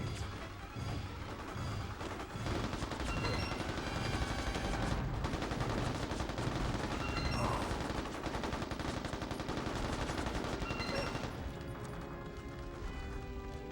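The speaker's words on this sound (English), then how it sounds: "Who's still shooting?" Gunfire fills Mercenaries: Playground of Destruction as dense, continuous bursts of automatic shots and crashing impacts rattle on at moderate loudness, easing slightly near the end.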